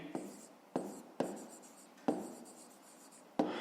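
Pen writing out a fifth-grade math solution on paper, heard as five distinct scratchy strokes, each starting with a sharp onset and fading, close and alone with no talking.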